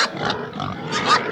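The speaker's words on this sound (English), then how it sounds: "It's a pig." Pig oinking on a farm, a few nasal grunting snorts in quick succession, close and clear with no talk over them.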